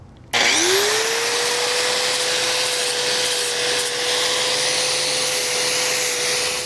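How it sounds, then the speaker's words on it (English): A sanding disc grinds down the rough cut edges of a steel trailer frame, one loud, steady whine that spins up quickly and holds without a break, close by. "I'm going to come back with a sanding disc here"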